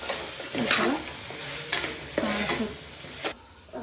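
Spiced masala with soya chunks frying in a pan for mint rice, a dense steady sizzle under three or four scraping stirs of a spoon, close up, ending in a quieter hiss.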